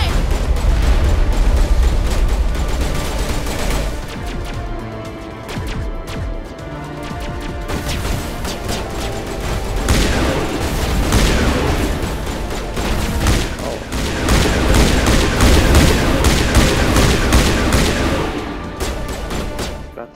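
Heavy suppressing gunfire in Mass Effect during the boss fight against Saren: continuous loud bursts of shots mixed with crashes and explosive booms, swelling in intensity across the stretch, with no speech.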